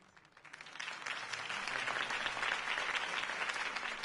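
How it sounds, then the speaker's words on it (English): A crowd applauds after a campaign speech for a city election, a sustained wash of clapping that swells in after a quiet start and holds loud and even to the end. "Mr. Wayne, my campaign's largest backer, could have heard that applause"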